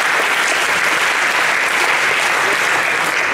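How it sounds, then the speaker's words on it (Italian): A festival audience at the opening of the Mix Milano festival claps loudly and continuously, dense applause filling the room without pause. "Applauso."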